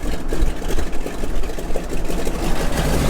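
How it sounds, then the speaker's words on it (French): Radial engine of a North American T6 aircraft running with a steady, dense low rumble, loud and close, continuous without pauses. "Et quand le moteur démarre, c'est pas super violent"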